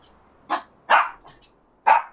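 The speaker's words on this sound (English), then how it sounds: "Puppy." A puppy barks three times in short, sharp yips and barks spaced about half a second apart, fairly close and clear against a quiet background.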